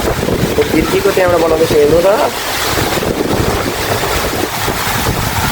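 A strong windstorm roars outdoors in Nepal, a continuous loud rush of wind buffeting the microphone, while someone speaks over it.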